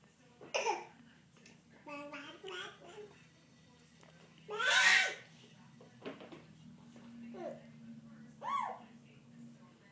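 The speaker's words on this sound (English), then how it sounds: "I know we have coughs today." A child coughs in several short bursts up close, with one louder harsh cough in the middle, amid soft babbling and an adult's quiet comforting voice.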